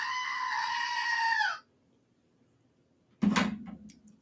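Goat screaming: one long, loud, harmonic bleating cry lasting over a second, then silence, followed by a shorter, harsh scream.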